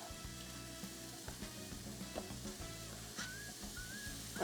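Mushrooms and minced garlic fry in a pan for a frittata, a soft, quiet sizzle with light stirring knocks and scrapes throughout, no voices.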